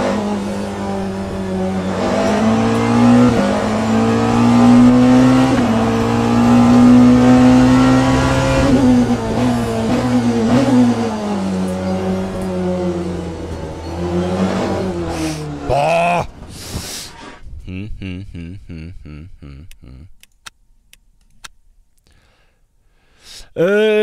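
A hypercar engine in the racing game Le Mans Ultimate, running on cold tyres, drones and revs with rising and falling pitch. It stays loud and steady before breaking into short, sharp bursts near the end.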